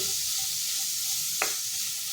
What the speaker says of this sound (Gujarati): દૂધીને આપણે 2 મિનિટ માટે સાતળી લઈશું